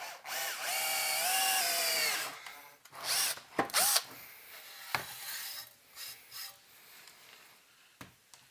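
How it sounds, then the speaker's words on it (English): A power drill whines through wood on a workbench, building a 1930s Globe tube amp, in a long sustained burst, then several shorter bursts follow with pauses and scraping between them. "make sure we don't drill into our desktop when we're going through these holes."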